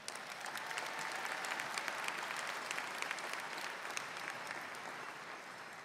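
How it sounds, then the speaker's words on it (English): A large audience at the University of Maryland, Baltimore 2023 universitywide commencement applauds families and supporters with a dense, sustained wash of clapping that stays steady and fairly distant throughout, with no one speaking over it. "Please give them a round of applause."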